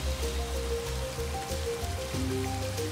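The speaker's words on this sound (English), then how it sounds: "Rain here in the Al Hajar Mountains is erratic and unreliable." Steady rain pours down in the Al Hajar Mountains, a dense continuous hiss of drops striking surfaces, with a low rumble of running water underneath.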